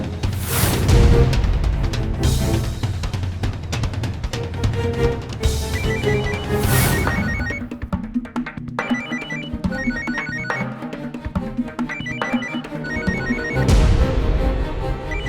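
A mobile phone ringtone plays loudly and continuously as a repeating melodic ring, with no voices over it.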